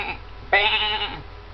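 A human voice imitates a sheep or ewe with a single short bleat, close and fairly loud, preceded by a brief soft vocal sound.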